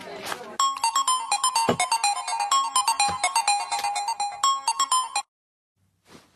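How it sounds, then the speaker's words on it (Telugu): A mobile phone ringtone plays in a Telugu film police scene: a bright, repeating electronic melody rings steadily for about five seconds, then cuts off into near silence. "రేయ్ అన్నకు ఫోన్ చేయరా"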